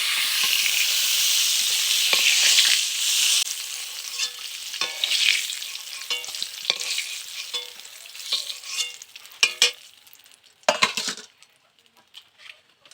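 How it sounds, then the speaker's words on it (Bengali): Potatoes fry lightly in oil in a pan, a loud hissing sizzle at first that thins out, with a string of spatula scrapes and metallic clinks toward the end. "এবার আমি আলুগুলোকে একটু ভেজে নেব হালকা করে"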